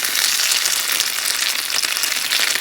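Sago fritters, Ekadashi-style cutlets, frying in a pan of hot oil, giving a loud, steady, dense sizzle and crackle that fills the whole stretch without pause.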